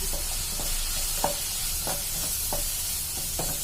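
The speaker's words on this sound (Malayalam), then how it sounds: "ഇതെല്ലാം കൂടെ നമുക്ക് ഒന്നും കൂടെ മൂപ്പിച്ചെടുക്കാം" Prawns and grated coconut with chicken masala roasting in a pan, steady sizzle under repeated scraping strokes of a spoon stirring at a regular rhythm, close and continuous.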